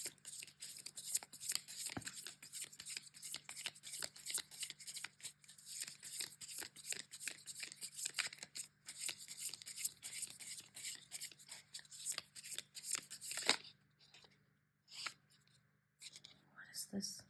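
Tarot cards are shuffled and handled, with a long run of soft, rapid riffling, flicking and papery rustling close up, then a few scattered card slaps near the end.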